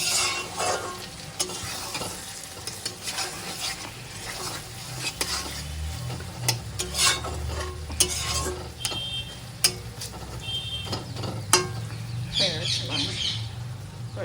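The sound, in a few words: chicken curry being stirred and fried with garam masala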